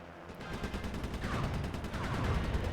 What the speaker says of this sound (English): Hearing an explosion from 2 planes ramming into each other about every 3 or 4 seconds.